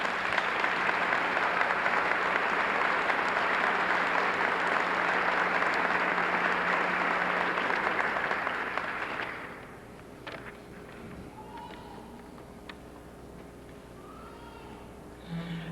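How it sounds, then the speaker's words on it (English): An audience at a high school hall of champions induction ceremony gives sustained, dense applause for about nine seconds, then it fades to quiet room noise with a few faint clicks. "Let's give them a big round of applause."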